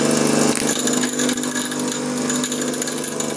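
A bench grinding wheel works a high-speed steel drill held in a fixture, shaping it into a small end mill, giving a continuous close whine with a fluttering, pulsing edge as the steel is pressed to the wheel.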